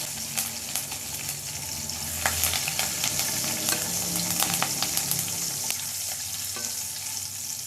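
Cumin, garlic, green chilli and curry leaves fry and are stirred in hot oil for an egg dish, giving a steady close sizzle with scraping spoon strokes and occasional sharp crackles throughout, no talking.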